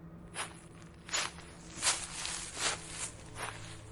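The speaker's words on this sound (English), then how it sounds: "Nothing but my own footsteps crunching through dead leaves." Footsteps crunching through dead leaves in a quiet wood, about eight evenly paced crisp crunches close by, with no other sounds.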